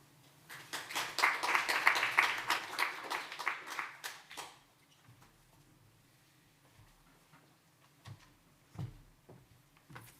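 An audience at a water utilities conference claps after a presentation, a dense burst of applause for about four seconds that thins to a few scattered claps and taps, with a faint murmur.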